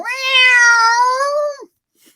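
A single long, clear cat meow, loud and close, sustained for over a second before cutting off into silence.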